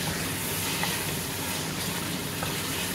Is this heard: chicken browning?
yes